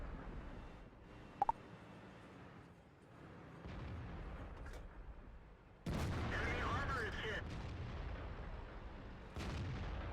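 Tank cannon fire from an IS-5 heavy tank in the World of Tanks video game: a loud broadband boom around the middle, then a second blast near the end, over steady engine rumble and battle noise.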